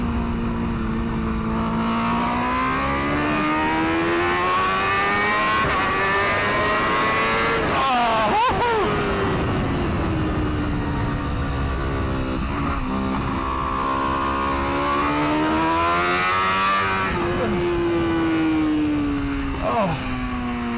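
A factory BMW WorldSBK superbike racebike engine screams loud and continuous while ridden, its pitch climbing through the gears, dropping sharply on shifts and braking, then rising again.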